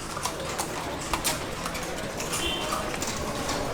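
Horse hooves clip-clop on a street in Cartagena's old walled city, amid steady busy outdoor crowd and traffic noise, with a few sharper hoof strikes standing out and faint bird sounds.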